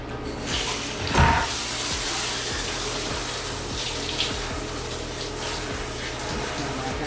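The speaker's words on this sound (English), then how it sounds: "Now let's apply the water." Water sprayed onto a dirty longboard during cleaning, a steady close gushing rush like a running tap, with a louder splash near the start and faint knocks underneath, no talk.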